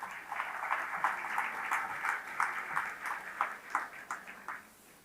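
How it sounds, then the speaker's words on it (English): Audience at the 19th BBQ Awards ceremony in South Africa claps in a soft, distant patter, individual claps standing out in an uneven rhythm at low volume. "Give yourself a round of applause for being here tonight."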